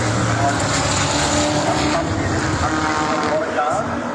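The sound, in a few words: race car driving past at Pukekohe Park Raceway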